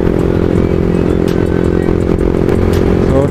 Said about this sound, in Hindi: सो अभी बाइक ने हल्का हल्का झटका देना शुरू कर दिया है।